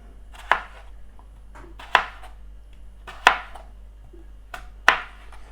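A knife cuts across fish skin and belly on a cutting board, giving four crisp, evenly spaced chops, near and fairly loud, over a low steady hum.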